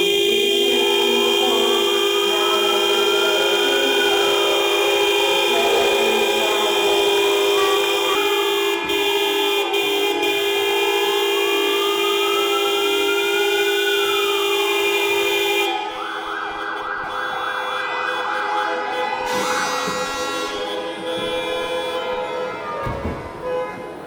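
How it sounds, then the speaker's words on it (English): Car horns blare together at the close of a classic motor show in a large indoor hall, with steady sustained tones, a wavering siren-like horn rising and falling, and a shift to a different chorus of horns partway through. "the show ends with the sounding the horns of all the cars here"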